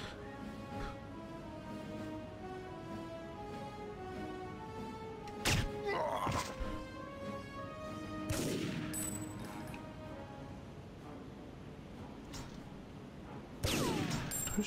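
A few sharp gunshots ring out in the TimeSplitters video game, scattered single reports and thuds over a droning musical background, fairly loud against the quiet gaps.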